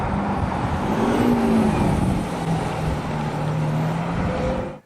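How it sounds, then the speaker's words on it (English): Engine note of a 2016 Audi SQ5 fitted with a Kufatec Sound Booster Pro, a steady, loud, close drone with a slight rise in pitch partway through, then a sudden cut at the end. "Now that you've finished installing your Kufatec Sound Booster Pro, you can go from this"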